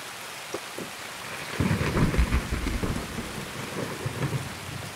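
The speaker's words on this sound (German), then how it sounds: "Boah, ist der Regen laut, ne?" Heavy rain pours steadily in Escape from Tarkov while thunder rumbles loudly and close by, rolling through the middle of the stretch over the constant downpour.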